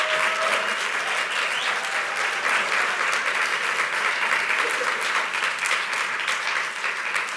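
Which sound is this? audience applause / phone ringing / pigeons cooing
audience applause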